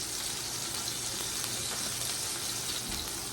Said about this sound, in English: There's that sizzle that we were hoping for.